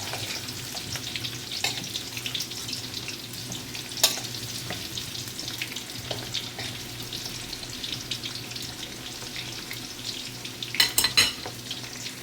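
Fish curry with carrots and potatoes sizzles and bubbles in a pan as it is stirred, a steady frying hiss broken by occasional clinks and scrapes of a utensil against the pan, close and continuous.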